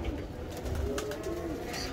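A pigeon coos in low, throaty, rolling phrases close by, against a steady background hum.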